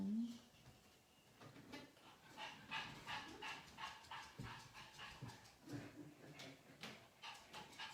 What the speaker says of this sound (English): Can you guys hear my dog's panting?